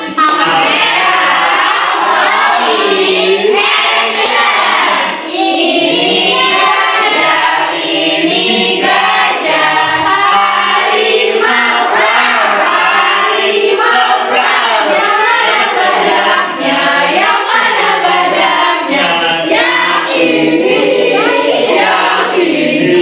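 A class of fourth-grade schoolchildren loudly chants the rhythmic 'tepuk hewan' animal clap song together, voices shouting in unison with claps mixed in, continuous and energetic throughout.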